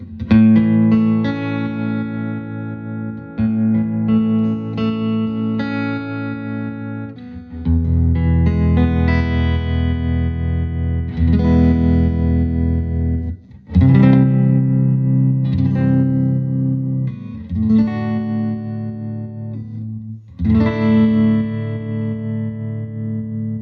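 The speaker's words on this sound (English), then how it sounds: "let's hear some of that vibrato and reverb that we worked on" An electric guitar plays chords and notes through a 1974 Fender Super Six Reverb amp, its tone wavering with vibrato and trailing reverb, loud and clear with no voices.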